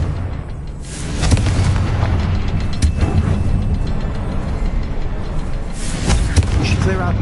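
A Confringo blasting spell from Hogwarts Legacy erupts in loud, booming explosive bursts, several separate blasts rising out of a constant rumbling game backdrop.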